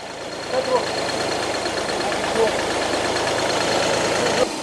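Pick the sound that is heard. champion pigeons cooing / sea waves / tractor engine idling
tractor engine idling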